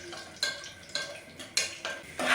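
Dry fruits frying in ghee in a pot, with intermittent scraping stirs and clinks of a utensil against the metal over a soft sizzle, in a few separate bursts.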